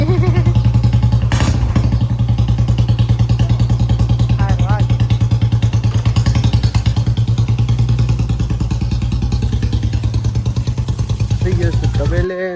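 A Royal Enfield Bullet motorcycle engine runs after a kick start, with a loud, steady, close thumping idle throughout and people talking over it.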